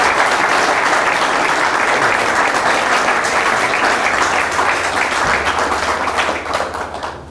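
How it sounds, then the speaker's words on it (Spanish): An audience at a talk-show gathering applauds loudly and continuously for several seconds, dense clapping that tapers off near the end. "Pido para él entonces un fuerte aplauso de todos ustedes."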